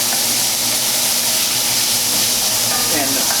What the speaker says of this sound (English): as I move the onions around, I'm going to gently scrape the bottom and pull up some of that fond.